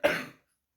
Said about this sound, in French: Je vais tousser, excusez-moi.